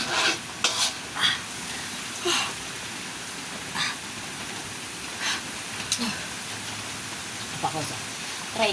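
Grated coconut and coconut milk simmer down into oil in a pan. A low bubbling sizzle carries on throughout, broken now and then by short scrapes and taps of stirring.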